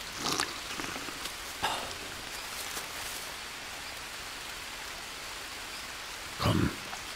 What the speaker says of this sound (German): Komm. Regen, hör auf.